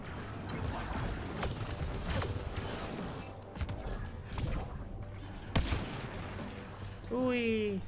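Bursts of gunfire and mechanical clatter in the sci-fi shooter Mass Effect: Andromeda, sharp shots scattered across the fight with a louder crack near the end, mixed with game effects and chatter.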